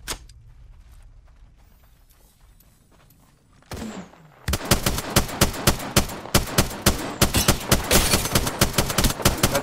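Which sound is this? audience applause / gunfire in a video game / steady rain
gunfire in a video game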